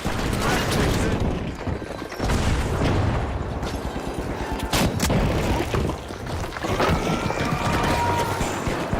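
A frag grenade blast in The Finals, a loud boom among dense gunfire bursts and crashing debris in a chaotic firefight, with voices talking over the action.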